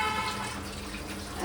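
Tap water pours steadily into a sink for washing dishes at home, a continuous broadband wash with a faint dripping quality, close and fairly loud, with no talking.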